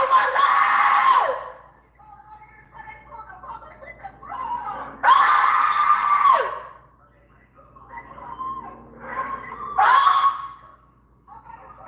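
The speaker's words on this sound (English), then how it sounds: "it's a grown man screaming" A grown man screams in shock in three loud, drawn-out bursts, each a few seconds long, with quieter agitated voices and muffled talk in between.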